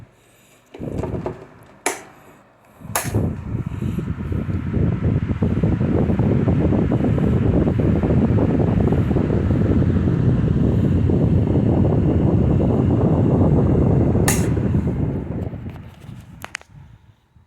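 A late-1970s or early-1980s Star-Aire 16-inch commercial wall-mount fan with sleeve bearings runs with a loud, steady whoosh. After a click it winds down, and the rushing air fades gradually to quiet.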